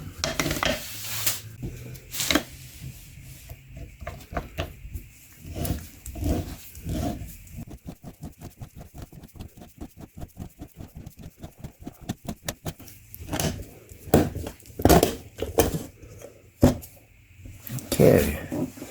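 Cutting open a used Purolator Boss PBL24651 oil filter: a long run of rapid, even metallic clicks or ratcheting in the middle, with scattered louder clanks and handling noise at the start and end.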